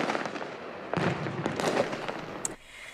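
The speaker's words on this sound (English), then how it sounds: "Just nonstop fireworks shooting off all over the city." Nonstop fireworks burst over a Southern California city on a Fourth of July night, a dense crackling barrage of pops and booms, with a sharp bang near the end.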